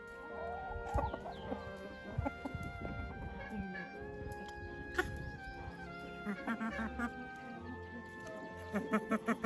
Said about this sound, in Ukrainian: Це шовкова курочка, сіренька і біленька.